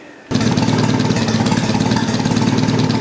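An old, rusty engine after its first run and timing adjustments kicks in abruptly and idles at about 500 RPM, a loud, close, steady rhythmic chugging throb that continues evenly to the end.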